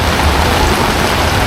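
Heavy rain pours steadily in Rishikesh, a dense, continuous hiss of drops drumming on surfaces, loud and close with no pauses or voices.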